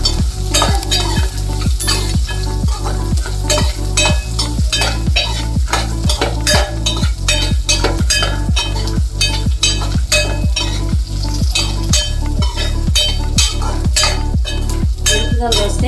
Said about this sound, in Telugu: ఎర్రకాలు వచ్చాక వేయించుకోవాలి.